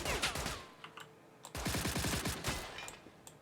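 Rapid bursts of gunfire from an enemy camp in the video game STALKER with Minecraft-style graphics, sharp cracking shots in quick volleys, including a dense automatic string mid-clip, fairly close and with no talking.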